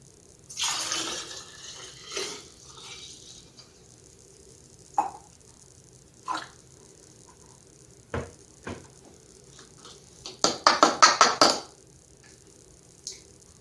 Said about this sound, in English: And then I'll pour in the kefir water.